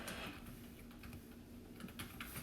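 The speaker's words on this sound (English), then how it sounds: "let me type that in" Quiet, close keystrokes on a computer keyboard, a short irregular run of soft clicks over a faint steady background hum.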